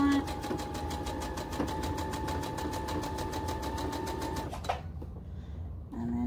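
A sewing machine stitches fabric for a baby lovie blanket in a fast, even run of needle strokes, then stops abruptly near the end and leaves a short quiet gap.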